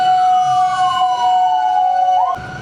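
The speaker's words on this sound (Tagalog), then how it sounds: "May ambulansya, mukhang may sunog eh." A loud, close ambulance siren wails with a sweeping tone near a Good Friday procession in Barasoain, then cuts off near the end, leaving quieter street background.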